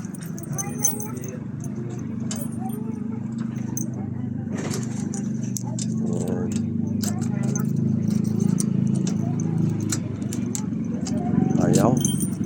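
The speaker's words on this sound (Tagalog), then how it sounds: "So kunin ko yung aking susi." Keys jangling and clinking close by while someone tries them in a vending machine lock, with scattered metallic chinks over a low steady hum and someone talking throughout.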